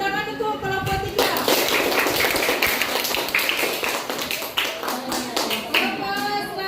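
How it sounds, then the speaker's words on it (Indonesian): Classroom of students clapping together for a presenting group, a dense burst of rapid hand claps starting after a short spoken line and lasting several seconds, with children's voices mixed in before speech resumes. "Tepuk tangan untuk kelompok 3."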